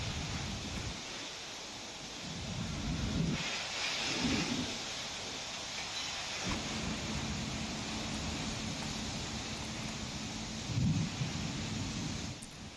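Steady heavy rain hisses throughout while low rumbles of thunder roll in several times, distant but deep, during a thunderstorm in Vijayawada, Andhra Pradesh.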